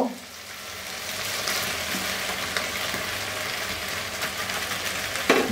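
Long-cut spring onions with their bases go into an oiled pan and sizzle steadily through the whole stretch, close and fairly loud, with a few clinks and stirring scrapes, for a Szechuan-style spicy chicken dish.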